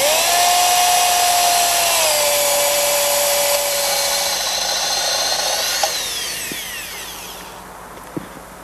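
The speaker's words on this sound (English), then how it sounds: "Place the drill at the top of the bearing block, hold the cutter down with your 2 feet like this, then cut straight down exerting light pressure." A power drill with a cutter bites into the bearing block of a PLP stainless steel splice closure, a steady high whine that shifts pitch as it loads and slows, then winds down with a couple of faint knocks near the end.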